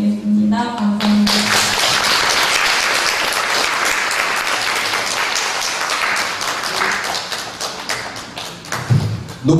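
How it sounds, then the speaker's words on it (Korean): Applause from a church congregation at a Sunday family church service in Jinju, loud and sustained for several seconds of dense clapping, with a brief voice at the start and fading at the end. "다시 큰 박수 부탁드리겠습니다"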